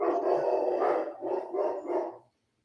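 A dog barks in a run of several loud, close barks with slight growling undertones, ending in silence.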